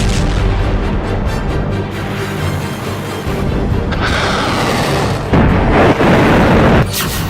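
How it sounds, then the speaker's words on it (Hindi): Loud rumbling booms and blasts of a missile launch and explosions, with a dense low roar throughout and sharp bursts near the end, heard alone without talk. "इजराइल पर पहली मिसाइल लॉन्च।"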